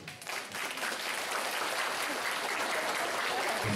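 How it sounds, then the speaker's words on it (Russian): Audience applause greets the first contestant at a New Year's tree party for first-grade classes at a school in Kauguri, Jūrmala, a dense, steady wash of clapping that swells quickly and holds loud to the end. "Итак, аплодисменты нашей первой участнице."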